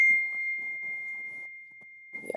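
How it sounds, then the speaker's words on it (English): A phone notification ding rings out as a steady, sustained bright tone through the whole moment, with faint murmuring and a few soft knocks underneath and a brief rustle at the end. "whose notification was that?"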